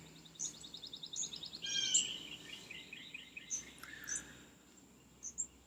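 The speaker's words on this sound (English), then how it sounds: "That was a belted kingfisher" A belted kingfisher gives faint, distant rattling chatter calls in short bursts over a quiet outdoor background with a soft insect hum.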